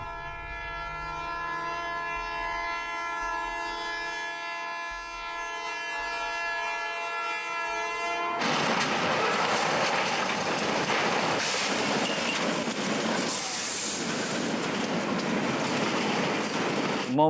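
A train horn sounds in long sustained blasts at a crossing, then the loud rushing clatter of a train passing close by fills the rest, with another horn burst near the end.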